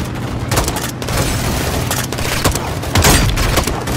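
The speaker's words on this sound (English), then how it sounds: "Gaz, hit him with the launcher!" Loud battlefield gunfire in Call of Duty: Modern Warfare as a launcher is fired at an enemy, dense continuous shooting and booming impacts with a heavier blast burst near the end, no voices.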